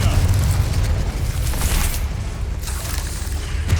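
A Confringo blasting curse explodes in Hogwarts Legacy during a fight with spiders: a loud, sustained, fiery roar of rumbling blast noise that fills the whole moment without letup.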